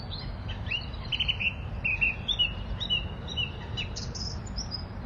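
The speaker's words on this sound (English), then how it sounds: "listening to a song thrush on Christmas Eve" A song thrush sings repeated bright phrases on Wandsworth Common, London, on Christmas Eve, fairly clear above a steady low rumble of distant traffic.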